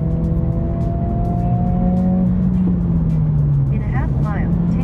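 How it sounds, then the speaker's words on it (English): A 2025 Honda Civic Si sedan with synthesized engine sound drones steadily from inside the cabin while driving, its pitch holding then sliding lower as revs ease, with a voice speaking briefly near the end. "it's got fake engine noise, and that fake engine noise sounds exactly like a Type R"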